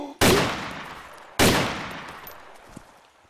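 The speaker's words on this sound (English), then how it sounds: "I shot an AK" Two loud, close AK rifle shots in DayZ ring out about a second apart, each with a long echoing decay across open terrain.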